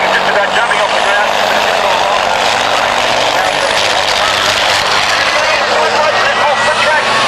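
A diesel racing truck brakes hard at a 1991 truck racing meeting at Baskerville, a loud continuous roar of engine and brakes with a commentator talking over it.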